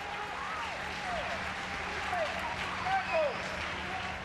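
Spectators at a women's field hockey international between New Zealand and China give a soft, steady ripple of applause, heard from a distance beneath the broad stadium murmur.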